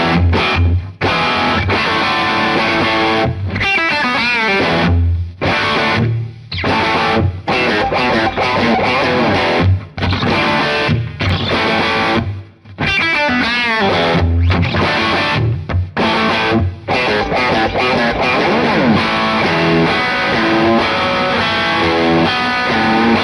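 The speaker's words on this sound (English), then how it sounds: "It's just a nice studio reverb with everything in." Distorted electric guitar through a neural amp modeler with a lush, spacious studio reverb tail, playing continuously with brief gaps between phrases.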